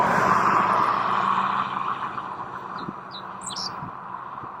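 A dickcissel sings from a roadside wire, several short high chirped notes heard faintly over a steady wash of passing traffic and wind.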